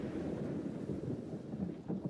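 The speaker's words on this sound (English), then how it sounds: "It's kind of stormy outside, huh?" Thunderstorm in Minecraft, a steady low rumbling roar of rain and thunder filling the whole short stretch at moderate level, with no voices.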